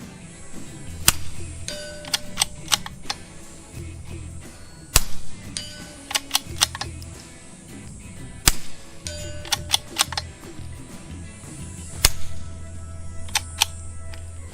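Suppressed .22 LR subsonic rounds fired through a Q Erector modular silencer: a series of sharp, quiet pops at irregular intervals, each followed by a mechanical action clack, close-up with no hearing protection, no talking.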